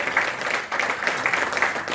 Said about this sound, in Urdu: زوردار تالیاں مارنی چاہیے